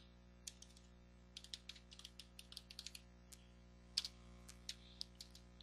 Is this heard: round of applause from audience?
no